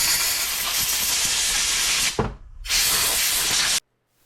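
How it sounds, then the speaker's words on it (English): A compressed-air blowgun blasts onto a snowblower carburetor in two loud, sustained hissing bursts separated by a brief pause, then cuts off sharply. "Got a blowgun here."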